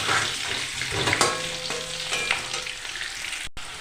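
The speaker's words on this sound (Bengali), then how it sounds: "এবার আমি আলুটা ভেজে নেব।" Lightly salted potatoes fry in a wok for Bangladeshi-style biryani: a loud, close, continuous sizzle with occasional spattering pops, heard alone.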